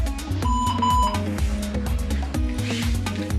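An electronic exercise-timer beep sounds as a single steady tone during a core and plank workout session, set against busy rhythmic background music.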